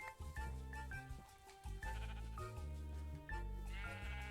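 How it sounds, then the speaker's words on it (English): Sheep bleating in Minecraft, several overlapping game bleats in quick succession over a continuous music bed, loud and close with no talking. "the island that I am working at right now also has sheep"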